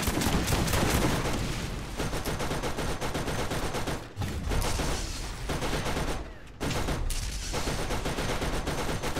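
Sustained rapid turret gunfire in Borderlands, a dense, loud stream of shots with a couple of brief pauses, almost no talk.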